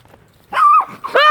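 A dog in a video game gives two short, loud, close barks or yelps about half a second apart, with no talk over them.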